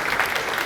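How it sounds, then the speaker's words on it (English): Audience applause at a hackathon keynote event in San Francisco, a brief dense burst of clapping at steady loudness. "let's give them a round of applause"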